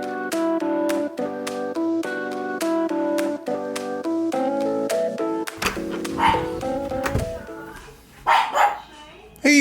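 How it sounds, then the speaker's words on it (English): A dog barks several times in sharp, close bursts in the second half, following a stretch of plinking melodic music. "Who are you barking at?"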